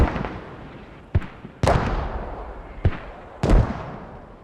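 Mortar rounds from a war video game thud down on a hilltop position, five sharp booming impacts at irregular intervals, each trailing into a long rumbling decay, loud and close.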